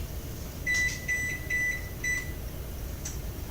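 An oven control panel gives a run of short, high electronic beeps as bake and start are pressed, several quick tones and then one more after a pause, over a low room hum.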